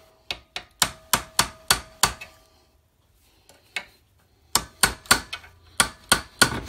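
Sharp metal strikes of a hammer on a quarter-inch punch driving out a door hinge pin from a 2006–2013 Chevy Impala held in a vise, two bursts of rapid evenly spaced blows separated by a pause, close and clear.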